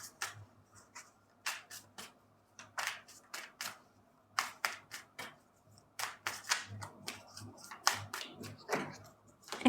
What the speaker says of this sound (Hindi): एक बार फिर से मैं अच्छे से शफल कर लूँ।